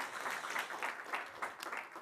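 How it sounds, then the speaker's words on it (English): Brief applause from an event audience greeting a panel of entrepreneurs, a soft, even patter of many hands heard from some distance. "please give them an applause to start with"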